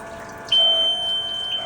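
An EDM machine gives a single high, steady electronic warning tone that starts abruptly and holds for about a second, clear over a faint background hum.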